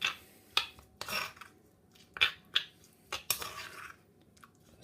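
Chilli and coriander paste stirred with oil in a bowl for a Thai pork roulade, a series of short wet squelching and clicking strokes, close and fairly quiet, with pauses between.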